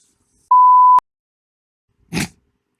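A single short, pure-tone censor beep sounds sharply and cuts off abruptly, followed by a brief muffled noise after a pause.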